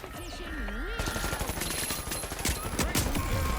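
Rapid automatic gunfire from a firefight in the video game The Finals, loud, dense bursts stacked with crackling shots and game effects, with a voice talking over the action.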